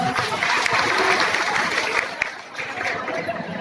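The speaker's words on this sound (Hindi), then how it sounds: "अरे सबका ताली बजाओ ना" Audience applause at a women's legal awareness programme in Sakti district, Chhattisgarh: steady dense clapping from a seated crowd, with murmured chatter mixed in throughout.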